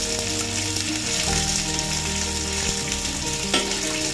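Pork adobo made with Sprite fries in a pan, a loud continuous sizzle with stirring scrapes, close and steady.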